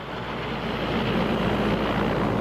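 Black Square Bonanza BE36TP turboprop in MSFS2024 gives a steady, loud, broadband engine roar with a constant low hum, unbroken for a few seconds with no voices.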